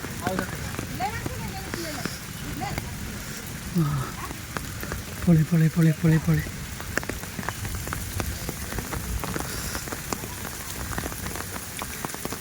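Steady rain patters on surfaces in Thiruvananthapuram, a continuous close crackle while a voice speaks over it and repeats one word in a short burst midway.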